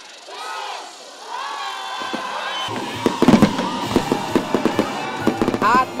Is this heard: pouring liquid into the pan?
no